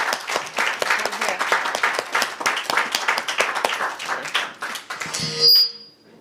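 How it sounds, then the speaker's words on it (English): Audience applause for a round-table panel on opera and community at English National Opera, dense steady clapping from a seated crowd for about five seconds before cutting off, followed by a brief sustained tone. "Would you give them a round of applause?"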